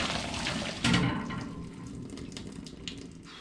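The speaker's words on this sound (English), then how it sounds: "So I'm going to drain the water off them." Water from a pot of simmered potatoes pours off into a kitchen sink, a close, brief gush that peaks early and then settles into a softer trickling splash.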